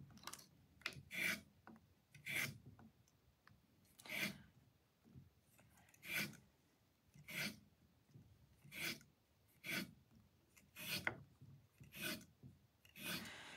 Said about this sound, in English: now I'm going to do one more, taking the sandpaper over the top